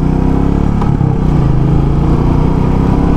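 A Royal Enfield Meteor 350 motorcycle engine runs loud and close with a steady low thumping beat while downshifting under braking, heard alone without talk.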